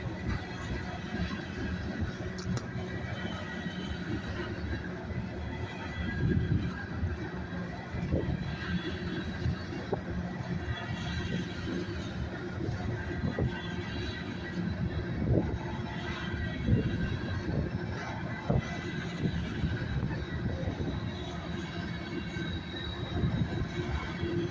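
A freight train pulling slowly into a rail yard between two occupied tracks, a steady low rumble of rolling cars with faint wheel squeal, sustained and moderately distant throughout.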